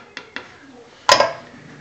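Two light metallic taps, then a louder clanking clatter as a lid is set onto a pan before it goes into the oven, close by, with no talking.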